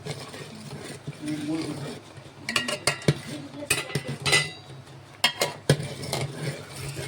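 Cotton milk simmering in a pot with ground dry ginger and cardamom, stirred by a spoon that scrapes and clinks against the metal in irregular bursts, with a voice talking softly in between.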